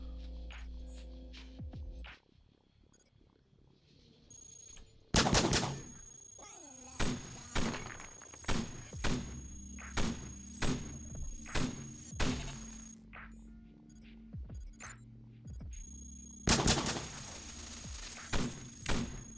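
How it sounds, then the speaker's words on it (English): Flak guns fire in the sci-fi robot game Cogmind as a rapid run of loud, punchy thumps and blasts, spaced roughly a second apart over a steady electronic hum, with a dense burst near the end. "look at these flak guns go!"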